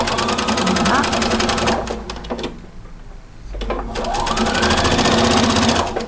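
A sewing machine runs fast, stitching straight through tulle on a dress. Its dense mechanical rattle dips briefly into a pause midway, then resumes close and loud.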